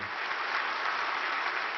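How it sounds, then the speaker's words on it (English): Audience applause at a formal speech, a dense, even patter of many hands clapping that continues steadily and moderately loud for the whole short stretch. "Some stood to applaud, but it wasn't the ovation given to President Xi of China last year"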